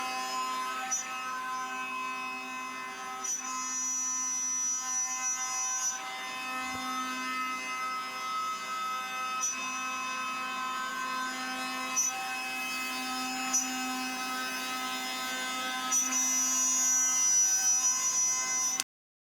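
A small spindle milling machine cuts traces in Pyralux flexible circuit material, giving a steady high-pitched whine with buzzing harmonics that holds constant throughout, close and continuous, with faint scraping of the cutter and no talking.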